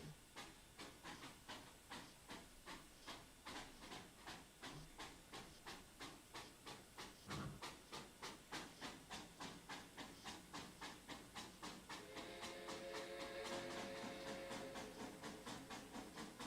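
Steam locomotive in the Trainz simulator chuffing and hissing in steady rhythmic puffs that quicken as it throttles up, joined late by a sustained whistle-like tone over a continuous hiss.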